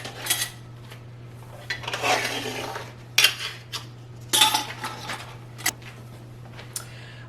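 Pantry items being taken off shelves and set on a kitchen counter, giving intermittent clinks and clunks of jars, cans and dishes, scattered irregularly over a steady low hum.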